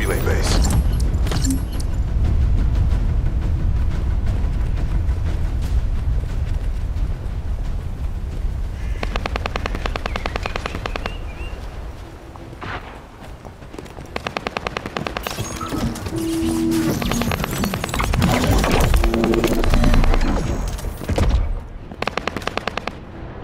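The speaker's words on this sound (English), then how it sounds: "Now stop the gunfire." Gunfire in the video game The First Descendant rattles in loud automatic bursts, with stretches of effects and mechanical noise between volleys.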